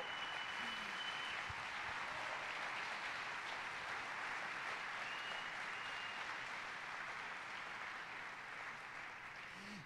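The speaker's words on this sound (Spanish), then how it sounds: "ya es hora de que le demos un buen aplauso a Jesús" Church congregation applauding together in a steady, sustained wash of clapping that fills the room, heard from somewhat far and fairly faint, with no talk over it.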